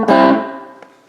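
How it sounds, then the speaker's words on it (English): A single strummed electric guitar chord through the distortion effect of a Line 6 Pod Express, loud at first and then decaying, followed by a faint string tap. "that's the distortion."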